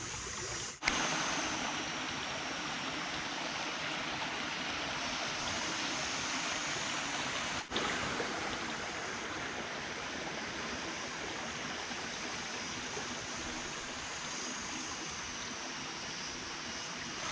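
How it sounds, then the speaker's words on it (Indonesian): The Manyuan River flows past a village with a steady, even rush of water that stays continuous and fairly distant. Two brief knocks break the flow. "Tuh, sungainya di sana."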